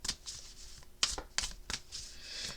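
Oracle cards from an Angel Wisdom deck being shuffled, a run of papery riffles and soft slaps with several sharper card flicks, close and fairly quiet, no talking.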